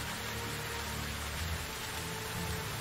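Rain falls steadily in Medieval Dynasty, a soft, even hiss of drops on the ground that stays quiet and unbroken throughout, with no talking over it.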